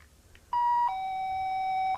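A battery-powered doorbell chime with adjustable volume sounds a loud, clean two-tone ding-dong, the higher note falling to a lower one that sustains steadily, close and alone.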